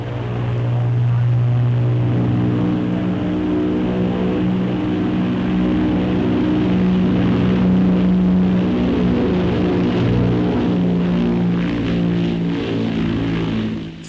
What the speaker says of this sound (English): Flown by test pilot Bill Pegg, the great aircraft is reported to have taken very kindly to Heathrow and its fine runways, taking off and landing a number of times